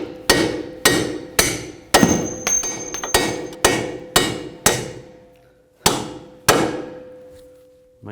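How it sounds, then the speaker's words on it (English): A hammer striking bolts to drive them out of a front strut on a 2011-2019 Ford Police Interceptor Utility, about a dozen sharp metallic blows at an uneven pace, each ringing briefly with a faint clang, close and loud. "And just take a hammer and tap the bolts out."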